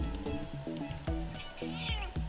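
A house cat meows several times in short, close, repeated calls over soft background sound, with a few sharper clicks between them.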